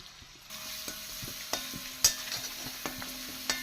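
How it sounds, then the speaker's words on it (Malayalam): Crushed shallots and dried red chillies drop into hot coconut oil and sizzle steadily, with sharp intermittent knocks and scrapes of a spoon stirring them in the pan, close and clear, no speech. "ചതച്ച് വെച്ച ഉള്ളിയും വറ്റൽമുളക് ഇട്ട് കൊടുക്കാം."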